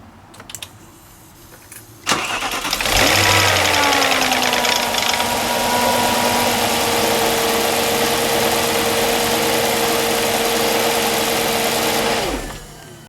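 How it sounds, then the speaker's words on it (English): An Audi S4 V8 starts with a short crank and catches into a loud, steady idle with a harsh mechanical rattle from a worn timing chain, running close for about ten seconds before shutting off. "It's a really bad rattle. I'm just going to demonstrate the rattle to you now."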